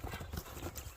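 Close, brisk clip-clop of a horse's hooves striking the ground in a quick uneven rhythm, heard alone without talk.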